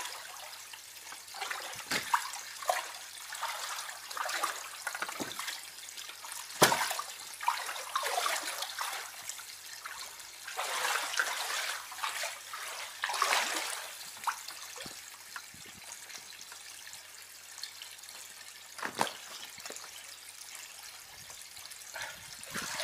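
Water pours and splashes unevenly as an Intex frame swimming pool fills, with gurgling bursts and trickles rising and falling at moderate, fairly close range, alone without talk.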